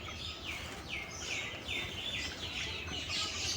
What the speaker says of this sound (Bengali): দেখতেই পারছেন মুরগিগুলা